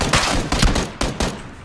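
Gunfire in the battle royale game PUBG: several loud, close shots in quick irregular bursts, each sharp crack trailing a short echo.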